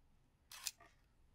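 A Canon EOS 3 film SLR fires its shutter at 1/5000, giving a single sharp mechanical click-clack about half a second in, close and crisp against a quiet room.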